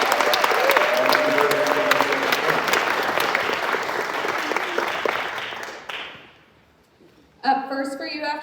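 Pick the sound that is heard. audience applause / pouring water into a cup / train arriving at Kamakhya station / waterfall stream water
audience applause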